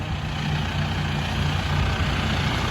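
A large John Deere 5130 tractor engine idles steadily nearby, a constant low rumbling drone with a faint hum, unchanging for the whole stretch.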